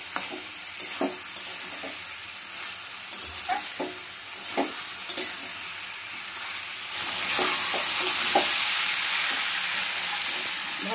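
Potato and jackfruit are stirred and sautéed in spices for a jackfruit dalna, with a steady frying sizzle and regular scraping knocks of the spoon that swell into a louder hiss.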